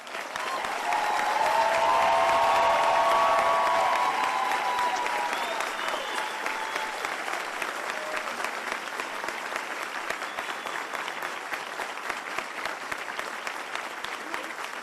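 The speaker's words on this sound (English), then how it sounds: "how about a round of applause for these graduates?" A large crowd at a U.S. Army Ranger School graduation ceremony breaks into loud, sustained applause, strongest early and holding steady with dense clapping and some crowd noise throughout.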